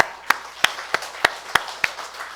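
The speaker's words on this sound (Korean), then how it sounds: "감사하며 하나님 앞에 영광의 박수 드립니다." Clapping in a church congregation during a worship service: six sharp, evenly spaced claps in a steady rhythm, close and distinct over a quiet background.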